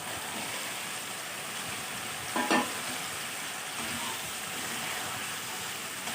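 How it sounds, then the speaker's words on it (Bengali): Fried kakila fish stirred into spicy masala in a pan, with a steady oily sizzle throughout and one brief scraping stir near the middle, heard close up. "মাছগুলোকেও মশলার সঙ্গে কিছুক্ষণ নাড়াচাড়া করে মিশিয়ে নেব"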